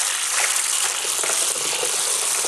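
Car air filter rinsed under running warm water, a continuous loud gushing hiss of water spray at close range, steady throughout with no voices.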